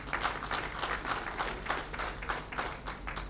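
Audience at a book launch event clapping for a colonel, a dense patch of applause from a modest crowd, soft and steady throughout.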